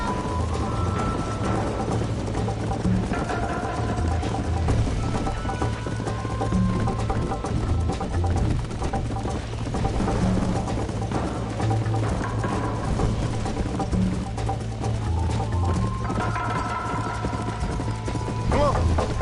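Horse hooves clip-clop in a fast, steady rhythm throughout the Red Dead Redemption game scene, close and prominent, with faint voices and background game sounds underneath.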